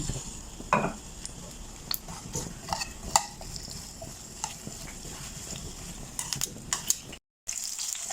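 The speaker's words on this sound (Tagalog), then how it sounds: "Tapos, igisayin natin yung onion." Onion sautés in oil in a frying pan with a soft, steady sizzle, broken by scattered close clicks and scrapes of a utensil stirring against the pan.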